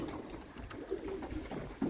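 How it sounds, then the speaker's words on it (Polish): Soft, low pigeon coos repeat in short murmuring phrases over a steady background, with a slightly louder coo near the end. "Gołąb."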